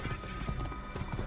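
Horse hooves clip-clopping in Assassin's Creed, a steady run of close, loud hoofbeats over a rumbling game soundscape.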